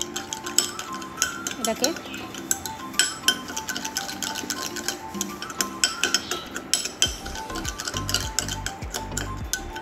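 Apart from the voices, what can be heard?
spoon stirring a creamy mixture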